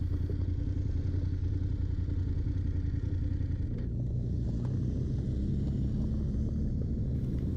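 A BMW F850GS motorcycle rides off-road trails with a group, its engine a constant low rumble with clattering over rough ground, holding steady for several seconds with no voices.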